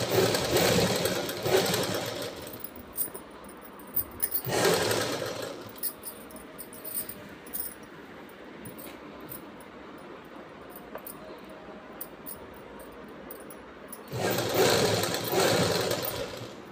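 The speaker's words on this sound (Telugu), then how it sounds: "పెద్ద మిషన్ అయితే ఇంకా పాదం ఇలా లేపుకుంటూ జరుపుకుంటూ కుట్టేయాలి" A sewing machine stitches the round neck of a blouse in fast, steady bursts, running hard for a few seconds, pausing, then starting again, with quiet handling in between.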